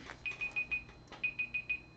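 A small kitchen-style timer alarm beeps in two rapid bursts of four high, clear tones, close and fairly quiet, on a craft desk during miniature-kit building.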